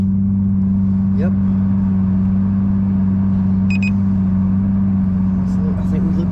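A V12 car engine runs steadily after its push-button start, a loud, close, deep droning hum that holds constant throughout with faint brief noises on top.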